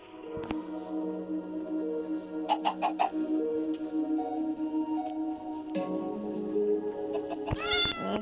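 A cat that resists handling lets out several drawn-out meows and whiny cries, close and fairly loud, with an irregular rhythm over a quiet indoor background.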